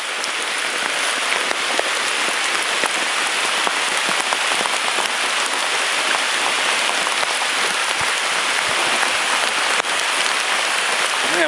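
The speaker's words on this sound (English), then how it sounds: "And it just started pouring down rain." Heavy rain pours down on the Gunpowder River, a dense, steady hiss of drops hitting the water and nearby surfaces that stays loud and unbroken throughout.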